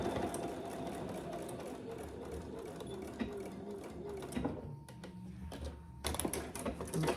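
A sewing machine runs in a steady rapid whir while stitching down a line on card slots for a clutch, close and continuous, pausing near the end for brief clicks and handling noises.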